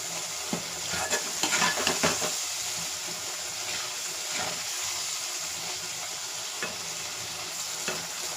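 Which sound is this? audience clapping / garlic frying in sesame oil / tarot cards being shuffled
garlic frying in sesame oil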